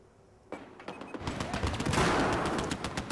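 Gunfire in Battlefield 4 multiplayer on the Operation Locker map: sudden loud automatic bursts break in after a quiet start, then dense continuous shooting with overlapping shots and rattling echoes fills the rest of the moment.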